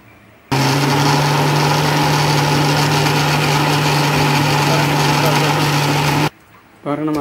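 A mixer grinder churns soaked lentils with salt for banana flower vada, starting abruptly into a loud, steady motor whine with a droning hum, then cutting off sharply and followed by a brief voice.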